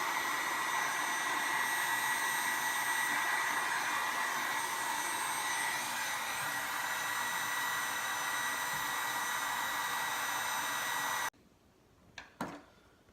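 A heat gun blows a steady, loud hot-air rush while heating vinyl wrap on a WR250R motorcycle side panel, then cuts off abruptly, leaving faint handling noises and a couple of soft knocks.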